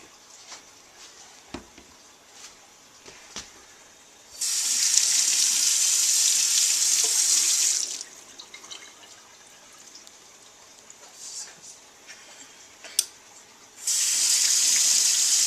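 A kitchen tap runs in two bursts to rinse an egg for an osmosis experiment, a steady hissing splash of water into a sink, close and fairly loud, with quiet handling clicks between the runs.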